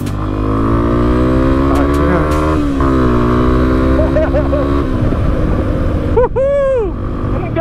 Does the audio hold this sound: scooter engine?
yes